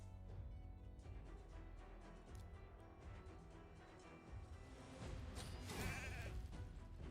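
A sheep bleats in a video game after a polymorph spell, a few quavering bleats amid busy game effects and rumble, one louder bleat near the end, faint overall.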